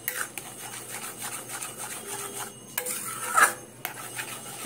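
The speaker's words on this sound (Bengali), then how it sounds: "সুজিটা দিয়ে গ্যাসটা একটু কমিয়ে দিতে হবে, তারপর সুজিটাকে এইভাবে নাড়তে হবে।" Semolina being stirred in a pan over a lowered gas flame, a soft continuous rubbing and scraping with a few brief louder clinks near the middle, steady and close, with no talking.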